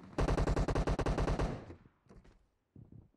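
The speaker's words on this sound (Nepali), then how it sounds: "ठुलो आवाज छ त्यो बन्दुकको" In a squad shooter video game with M24 and M762 rifles, a rapid burst of about fifteen loud automatic shots fires in quick rhythm, followed by a few scattered, quieter shots and short gaps.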